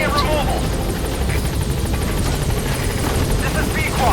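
A support helicopter arriving in the video game Metal Gear Solid V: The Phantom Pain, its rotor a loud, continuous whirring drone close by, with a voice talking over it.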